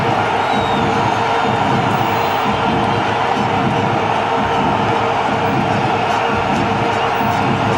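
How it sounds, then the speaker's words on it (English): Huge stadium crowd at the 2011 Cricket World Cup final between India and Sri Lanka roars and cheers continuously, a dense, loud wall of voices with whoops rising throughout. "I'm expecting a cheer. You get a cheer."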